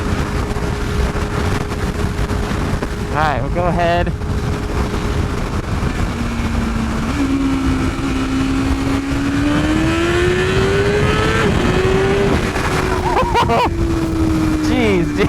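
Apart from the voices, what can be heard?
BMW S1000RR superbike accelerating in first gear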